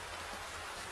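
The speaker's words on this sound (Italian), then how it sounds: "Piove a dirotto." Heavy rain pours down as a dense, steady hiss of drops filling the whole short stretch, with no voices.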